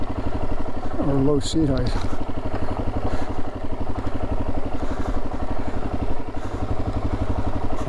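A Yamaha RZ two-stroke motorcycle idles in neutral on a trail ride, a steady low buzzing throb running throughout under a man's close, talking voice.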